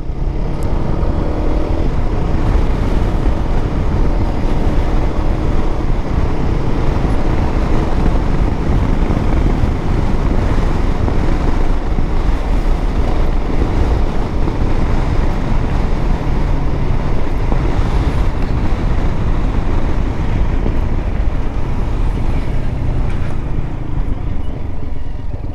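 A Shineray Storm 200 motorcycle being ridden and accelerated, its engine a steady drone mixed with heavy wind rush, loud and continuous throughout with no talk.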